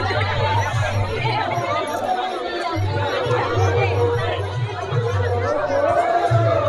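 Steady crowd chatter and babble at the Dhanuyatra fair in Thuapali village, with a continuous hubbub of many voices and a low mechanical hum beneath, fairly loud throughout.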